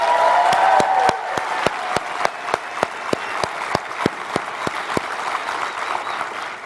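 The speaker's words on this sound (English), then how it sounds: "Give them a big round of applause." An audience at a CEO Space event claps in a dense burst that thins into a steady scatter of individual handclaps, sharp and close, with a faint tone fading out at the start.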